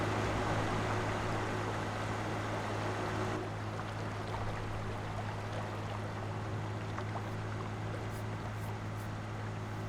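A tractor engine drones steadily while plowing in Farming Simulator 22, a quiet, even hum with a low tonal rumble under broad noise and no voices.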